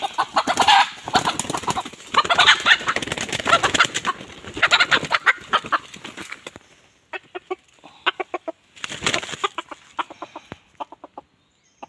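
Chickens cluck in a close, busy flurry, then the calls thin out into short separate clucks with brief pauses before a last burst.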